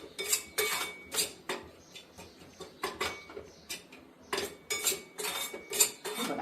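A spoon repeatedly scrapes and clinks against a pan while wheat flour sheera with dry fruits is stirred, making brisk metallic taps in an irregular rhythm, close and clear.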